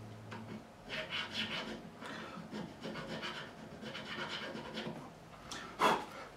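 A file rasps back and forth across the nut slots of an Epiphone EJ200-SCE acoustic guitar, a close series of short scraping strokes with brief pauses and a sharper scrape near the end.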